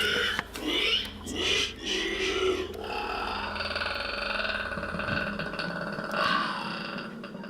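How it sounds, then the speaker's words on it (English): An unknown creature lets out guttural, boar-like squeals and grunting groans, fairly close and sustained with rising and falling swells, amid rough background noise. "Something inside lets out a guttural squeal similar to a wild boar."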